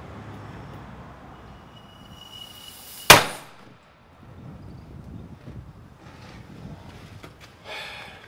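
A muzzle-loading air rifle fires once into a sandbag with a single sharp, loud pop that decays quickly. Quiet handling noise comes before and after the shot.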